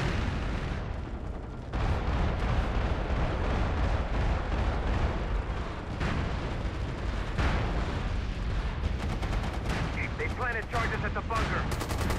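Artillery barrage in the online shooter MAG, a dense continuous roar of heavy blasts and gunfire rumbling through the whole stretch, with battlefield radio voices mixed in.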